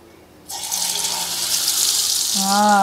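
Water pours from a tap into a corn flour batter, a steady broadband gush that starts abruptly and runs without a break, with a faint tonal whine from the faucet or voice rising near the end.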